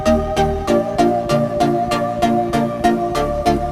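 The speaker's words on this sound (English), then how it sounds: "Bass line" Electronic dance track with a steady pulsing bass line under rhythmic synth chords and muted guitar, a repeating beat roughly every third of a second, loud and continuous with no voices.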